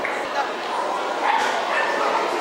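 Dogs bark and yip in a noisy hall during dog show group judging, sharp close calls over a constant crowd murmur and a voice on a loudspeaker.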